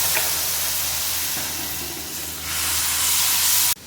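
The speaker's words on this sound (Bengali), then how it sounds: "সব মশলা খুব সুন্দরভাবে সামান্য জল দিয়ে কষিয়ে নেবে।" Turmeric, chili and cumin powders fried with a little water in a pan for loti chingri (taro stolons with prawns) give a loud, steady sizzle and hiss that fills the whole clip, dropping off abruptly at the end.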